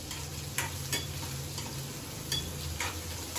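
Onions frying in a pan with fenugreek and cumin for tamarind curry, a constant crackling sizzle broken by several sharp spatula taps and scrapes, no talk.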